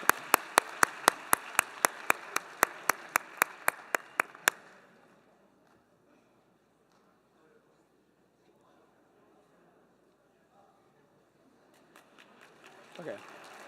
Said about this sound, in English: Another big round of applause for IAEA